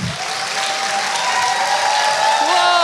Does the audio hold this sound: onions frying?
no